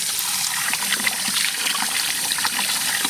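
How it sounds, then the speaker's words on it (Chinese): Fatty pork belly is rinsed under a running tap, giving a steady hiss of flowing water with light splashing, close and unbroken. "把这白花花的五花肉洗一下"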